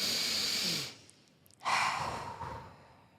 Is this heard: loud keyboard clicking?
no